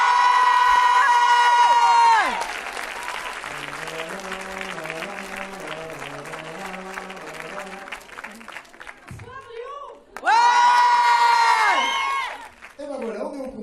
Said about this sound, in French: je vous demande d'accueillir et d'applaudir chaleureusement